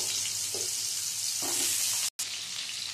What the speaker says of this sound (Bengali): এই তেলের মধ্যে দিয়ে দেবো আমি কেটে নেওয়া কুমড়োগুলো। কুমড়োগুলো ভেজে তুলে নেব।